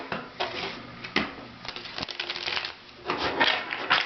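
Tarot cards are riffled and shuffled in repeated quick bursts of crisp papery flutters and taps, close by, with brief pauses between shuffles.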